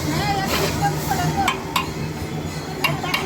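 Poha being stirred in a large pot for a big batch: scraping and clinking of a utensil against metal with occasional sharp knocks, over a steady background hiss and murmuring voices.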